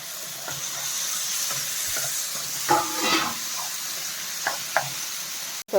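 Chopped tomatoes frying in a pan while being stirred, prepared for a stuffed capsicum dish: a steady close sizzle runs throughout, broken by several short scraping and knocking strokes of the stirring utensil against the pan.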